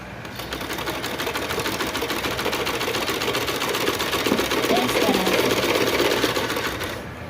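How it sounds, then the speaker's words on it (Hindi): A sewing machine runs a straight stitch along the joined skirt panels of a baby frock made from waste cloth: a continuous, close, fast mechanical whir and rattle that holds steady for the whole stretch without any voices. "मैं इस पर सीधी सिलाई चला रही हूँ"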